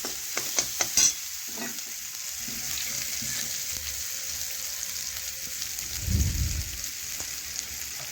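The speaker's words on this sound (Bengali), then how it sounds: "এই দেখুন এইভাবে নাড়াচাড়া করে একটু ভেজে নেব" Boiled chickpeas with masala are stirred and fried in a pan for chana ghugni: a few quick scraping clicks at the start, then a low, even sizzle with a soft thump near the end.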